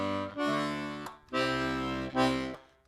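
Melodeon bass chords voiced with thirds, three sustained, harmonically rich presses of the bellows with brief gaps between them, close and fairly loud with no talking.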